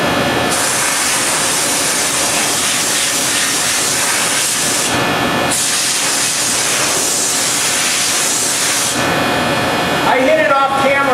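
Pressure sprayer at 100 pounds washing an air conditioner A-frame coil during a split-system service, loud hissing spray bursts with short pauses between them, and a voice talking over the end.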